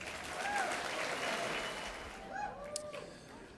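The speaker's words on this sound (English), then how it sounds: "let's give all of the sponsors, those I mentioned and those in the program, a big round of applause" An audience at a pro-life gathering gives the sponsors a round of applause, a continuous spread of clapping heard from a distance, with faint chirpy tones and brief voices mixed in.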